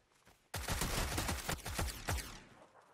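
Shotgun fire in PUBG on Miramar, several heavy blasts booming in quick succession after a quiet start, each with a rolling echo tail.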